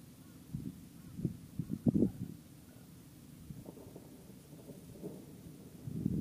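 A low, rolling rumble of distant thunder swells and fades over several seconds across a river before a hailstorm, with faint wind noise underneath.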